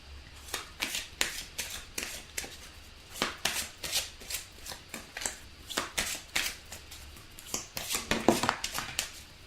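Oracle cards being shuffled by hand for a reading, a rapid run of crisp riffling bursts repeating in quick irregular rhythm, close and fairly quiet with no talking.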